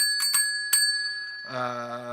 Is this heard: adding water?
no